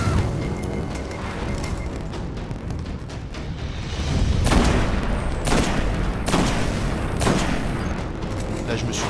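Sniper rifle shots crack in the shooter video game Destiny, several loud booming reports spaced a second or so apart over a dense, continuous din of battle.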